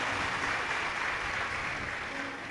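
Audience clapping loudly in unison at a religious gathering, a dense steady wash of applause from a large crowd with no speech over it.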